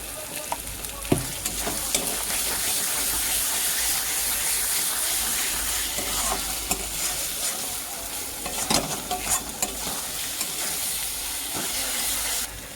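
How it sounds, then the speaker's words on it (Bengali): Turtle meat curry with turmeric sizzles steadily in a frying pan while it is stirred. The frying hiss is loud and continuous, and occasional scraping knocks from the stirring cut through it. No voices are heard. "ভালোভাবে এর সাথে এখন মিশিয়ে নেব"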